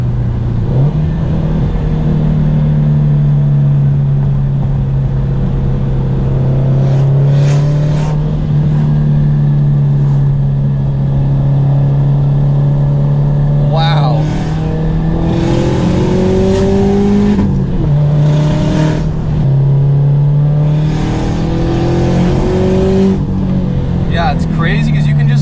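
A Subaru STI with an external wastegate drives hard through canyon roads, its engine droning steadily, then rising and falling as it accelerates and shifts, loud and close from inside the car.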